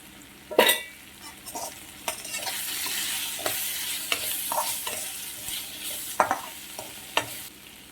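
Egg, with turmeric and chilli powder, fries in a pan, a soft sizzle under repeated scrapes and clinks of a spatula stirring at close range, with no voices.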